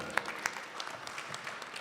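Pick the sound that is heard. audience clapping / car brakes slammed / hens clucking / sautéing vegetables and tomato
audience clapping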